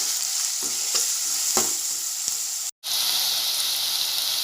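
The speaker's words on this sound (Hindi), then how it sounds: "तेल में मैंने कटी हुई प्याज डाली हूँ। प्याज को तेल में फ्राई करके लेंगे।" Chopped onions fry in oil for mutton kheema with a loud, steady sizzle and a few faint stirring clicks, and the sound drops out abruptly for a moment before the hiss resumes.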